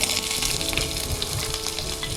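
Eight chopped shallots go into hot coconut oil with mustard seeds that have already popped, giving a loud, close, continuous sizzle and crackle with faint stirring and no talk.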